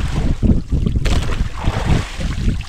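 Big sea waves and gusting wind batter a small boat far out on open water, with a loud, continuous rushing roar and heavy low buffeting of wind noise on the microphone throughout.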